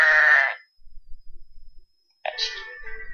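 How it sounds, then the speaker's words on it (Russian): A sheep bleats once, clear and close, in a short wavering cry, followed by quiet and then a second brief higher-pitched bleat. "Овечка."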